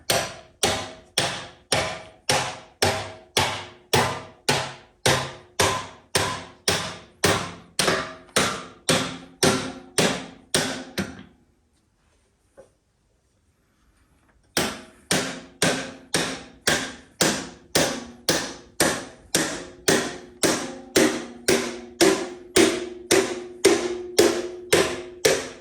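A hammer taps a spacer through a part on an XS motorcycle rebuild in a long run of sharp, evenly spaced metallic knocks. The blows pause for a few seconds of near silence, then resume in the same steady rhythm.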